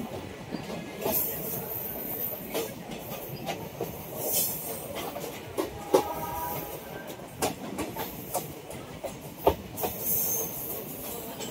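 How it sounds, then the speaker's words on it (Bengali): A train running on a railway line through the green Dooars countryside rumbles steadily with rhythmic clacking over rail joints and bursts of high wheel squeal, heard from on board at moderate loudness. "ট্রেনটাই ঘুরছে, দেখা যাচ্ছে।"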